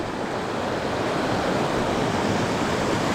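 Heavy water pouring down the lost waterfall of Banishead, fed by mountain runoff, as a steady, dense, close rushing roar with no break and no voices.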